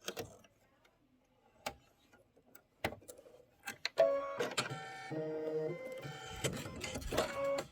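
An embroidery machine sews a custom satin stitch spine on a pillow, starting with sparse ticks and clicks, then settling into a dense, continuous mechanical whirring with tonal buzz.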